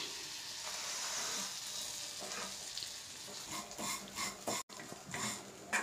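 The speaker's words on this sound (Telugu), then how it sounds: "నెయ్యిలో ఫ్రై చేసుకుందాం." Thin vermicelli fries in ghee in a kadai for semiya payasam, a close sizzling crackle broken by uneven stirring scrapes and clinks toward the end.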